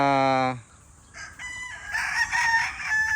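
Local banded roosters crowing, one loud harmonic crow cutting off quickly, followed by other birds crowing and calling at middle distance, overlapping and raspy.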